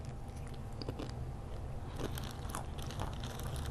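Someone bites into and chews a crisp, thin oven-browned snack, a string of close, sharp crunches and softer chewing over about four seconds, with no talking.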